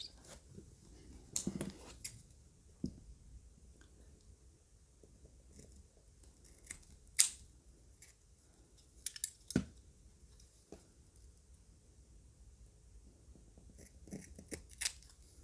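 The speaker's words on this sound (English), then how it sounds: "I'm just going to trim it a little bit with scissors." Quiet room with several sharp, crisp snips scattered over the clip, scissors trimming a thin nail polish strip, with faint handling noises between cuts.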